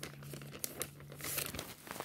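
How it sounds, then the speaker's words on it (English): Paper being pulled out of a homemade water snake, a soft, close, continuous crinkling and rustling with a few sharper crackles, fairly quiet. "And now you want to open it and take the paper out."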